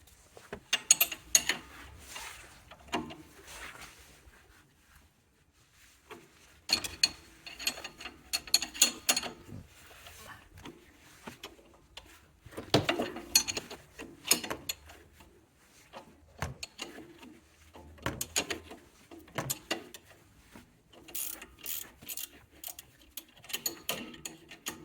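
A ratchet loosens the sway bar link bolt on an Audi Q7 with repeated bursts of quick clicking between quiet gaps, faint and close by with no voices.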